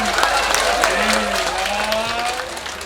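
An audience at a Balinese drama gong performance applauds with steady, moderately loud clapping mixed with crowd voices and some chatter.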